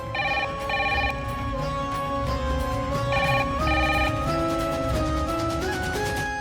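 A household telephone rings loud and close in repeated electronic bursts that keep going steadily with no voices over them.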